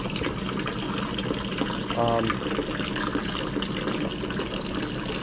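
Water from a 22-year-old hot water heater, flushed with vinegar, drains steadily into a bucket, a continuous gushing pour heard close up with a brief brighter splash partway through.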